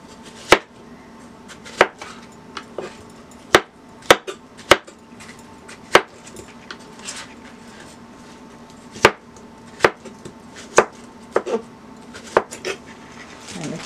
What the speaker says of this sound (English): I'm also going to cut this in cubes.